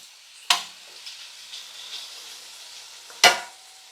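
Large 16–20 count shrimp going into a hot pan for shrimp spaghetti, two sharp bursts of sizzling as they hit the oil, each fading into a low steady frying hiss, close up with no voices.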